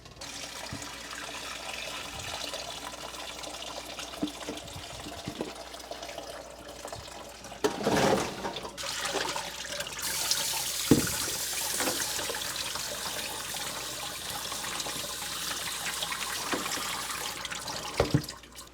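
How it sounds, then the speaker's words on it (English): Water runs into a pot being washed out at a kitchen sink while making old-fashioned lime pickles, a steady rinsing and splashing with a louder gush partway through, no talking. "Wash this pot out really good"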